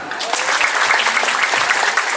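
School students at a graduation farewell event applauding, a brisk, dense burst of clapping from a large group, loud and steady for about two seconds.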